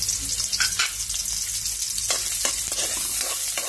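Onion, garlic and ginger sautéing in a hot pan for pork intestine adobo, a loud, close, continuous sizzle and fry with occasional stirring scrapes, no talking.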